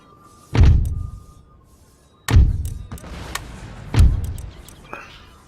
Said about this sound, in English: Let's fire again. We'll give him one more carcass shot.